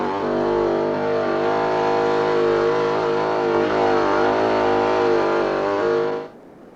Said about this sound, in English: The new transit, coping easily with farm tracks.